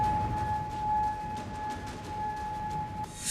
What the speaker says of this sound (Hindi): सायरन बजने लगे।